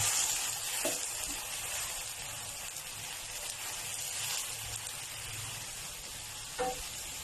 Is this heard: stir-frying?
yes